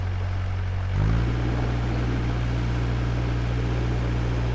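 Narrowboat diesel engine revving at about 1800 RPM while the boat holds still, a steady loud low drone with a brief rise in pitch near the start, alone with no talk.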